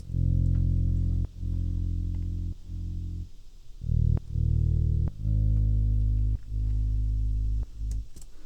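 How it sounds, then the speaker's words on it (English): Deep, punchy bass notes played in a steady, repeating pattern, each one a thick sustained tone with sharp attacks, loud and alone. "So first thing I wanted to talk about was this thumb bass here."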